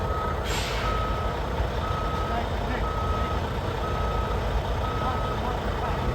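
A truck reversing during truck driver training in Canada, its backup alarm beeping in an even, repeating rhythm over a constant low engine rumble, with one brief hiss of air brakes and people talking nearby.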